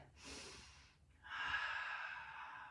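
A deep yoga breath: a soft, airy inhale, a brief pause, then a longer, fuller exhale, close and quiet, with no talking.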